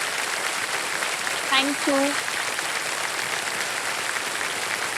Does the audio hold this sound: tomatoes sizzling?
no